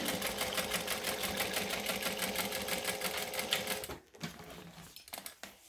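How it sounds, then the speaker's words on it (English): Sewing machine top stitching a bag, running steadily with a fast, even needle clatter for about four seconds, then stopping, followed by a few quieter scattered handling clicks. "I'm going to top stitch it to make it pretty"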